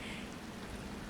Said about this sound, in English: it is now raining again in my game